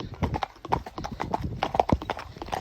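Horses walk past on a road during a hack, their hooves clip-clopping in an uneven rhythm at close range, with faint background sound and no clear talk.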